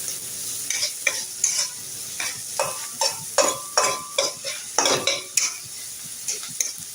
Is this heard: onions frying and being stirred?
yes